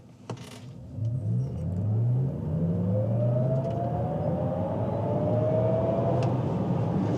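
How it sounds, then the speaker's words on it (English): Cadillac LYRIQ electric car pulling away after a stop, a rising electric whine sweeping upward over steady road and motor rumble as it accelerates, fairly close and continuous. "So let's go ahead and stop, and then accelerate."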